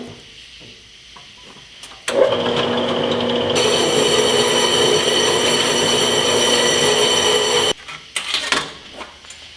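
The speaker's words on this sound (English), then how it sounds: "let's take that over to the horizontal bandsaw" A horizontal bandsaw starts up and cuts through metal with a loud, sustained grinding whine and a steady tonal ring. It runs for about six seconds, then stops abruptly and a few scattered clanks follow.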